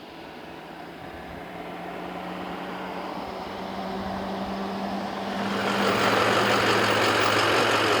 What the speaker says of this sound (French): C'est le tracteur.